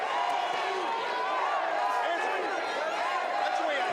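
A boxing arena crowd roaring in support of a fighter late in a round, a dense, sustained wall of cheering and shouting voices heard from a distance, with scattered whistles and calls rising above the steady din.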